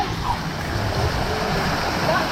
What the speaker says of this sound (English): We got a cool waterfall up ahead